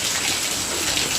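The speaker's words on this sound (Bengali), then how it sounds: "একভাবে বৃষ্টি পড়েই যাচ্ছে। ওই জন্য ভিডিওতে বৃষ্টি পড়ার আওয়াজটাও জোরেই আসছে।" Heavy monsoon rain pours steadily, a dense even hiss of drops hitting surfaces, loud and close for the whole short moment.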